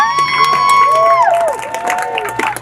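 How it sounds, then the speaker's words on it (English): A street protest crowd cheers and whoops for a speaker, with sustained high shouts and scattered clapping rising close by and then easing off. "Round of applause for Jorge, please."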